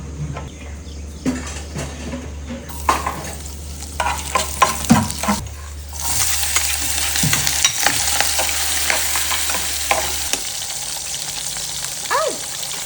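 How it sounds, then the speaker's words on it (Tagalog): Sinangag, a Filipino garlic fried rice, is cooked in a pan: a steady frying hiss runs beneath repeated scraping and stirring clatter, which grows busier and louder partway through, with no talking. "magluluto tayo ng sinangag."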